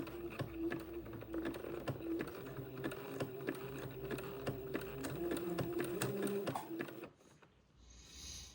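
A sewing machine runs a steady zigzag stitch over entredeux lace on a French Acadian sundress, a quiet, even rhythmic whir that stops abruptly near the end.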